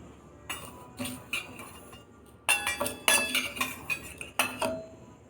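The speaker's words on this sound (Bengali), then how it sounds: "এই দেখুন 4 চামচ জোয়ান নিলাম।" A small spoon scoops carom seeds (ajwain) and clinks against a glass container, with a series of sharp, bright taps in uneven clusters, close and clear, and no talk.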